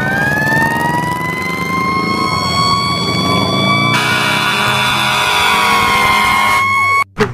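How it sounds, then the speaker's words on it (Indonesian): A toy fire truck siren wails loudly and steadily in a continuous electronic two-tone whine, close by and alone, cutting off abruptly near the end. "Di sini ada mobil pemadam kebakaran."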